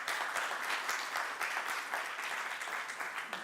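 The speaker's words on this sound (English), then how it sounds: "may I have a round of applause for the panel members who are sitting out" Summit audience applauding the panel members, dense sustained clapping from a large crowd in a hall, loud and continuous throughout.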